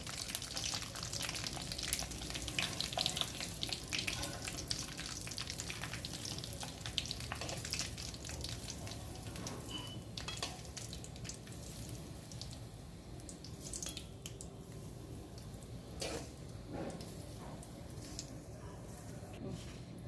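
Colocasia leaf bajji sizzling and frying steadily in hot oil, a continuous close crackle with occasional louder spatters throughout.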